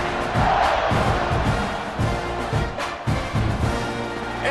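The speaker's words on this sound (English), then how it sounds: "this crowd is buzzing after that last score" A stadium crowd in College Football 26 buzzes after a score, a loud dense roar with rising cheers and shouts that stays at full volume throughout and never drops away.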